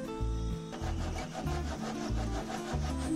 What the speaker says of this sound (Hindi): ये है एक्चुअल आरी जिसे काटने में टाइम लगता है।